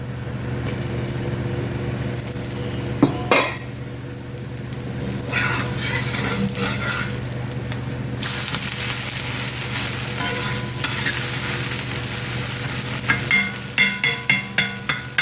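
A wheat adai dosa topped with onion cooks on a covered pan, giving a continuous close sizzle and frying hiss, with occasional clinks and a lid or utensil knocking against the pan.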